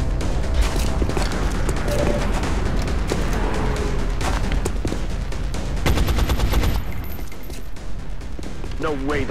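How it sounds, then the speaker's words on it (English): Heavy, sustained gunfire while shooting at aliens in the strategy game XCOM: Enemy Unknown, loud overlapping bursts of automatic shots, with a voice talking over the firing. "We're here shooting at some aliens."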